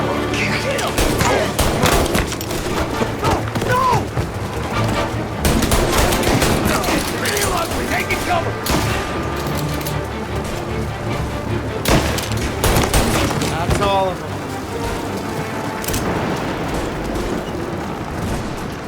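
Heavy gunfire in a combat shootout in Mafia: Definitive Edition, sustained machine-gun bursts and booming shots layered with explosions, loud and continuous for the whole stretch, with voices talking over the battle.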